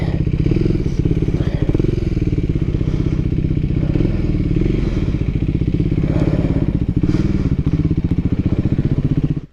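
A Triumph Scrambler 400 X single-cylinder motorcycle on a ride, its engine running steadily and close with a throbbing, even pulse and some clatter and rattle, and brief speech in places.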